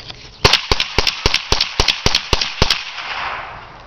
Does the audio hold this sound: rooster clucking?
no